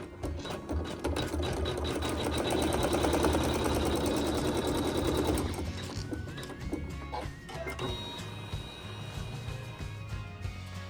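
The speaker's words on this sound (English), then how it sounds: "you're going to let the machine sew the tack down stitch" An embroidery sewing machine stitches a tack-down stitch on fabric for a quilt block. Its rapid regular whirring and clatter is close and fairly loud for about six seconds, then turns lighter with a varied mechanical rhythm.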